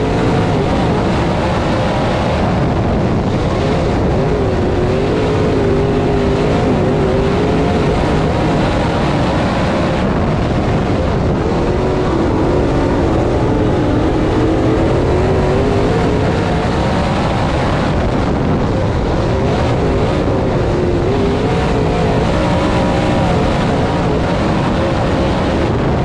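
Race cars roar down the back straightaway at Swainsboro Raceway in a close battle for third, a loud, steady, unbroken engine drone that swells slightly as the pack passes.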